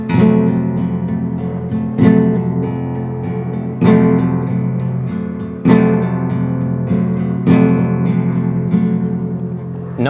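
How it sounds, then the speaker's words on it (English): Flamenco guitar thumb strumming in sliding up-and-down movements, with rhythmic chord strokes at a steady pulse and a stronger accented hit roughly every two seconds, ringing continuously, close and alone. "the strum is pretty much going to be up and down movements of that sliding"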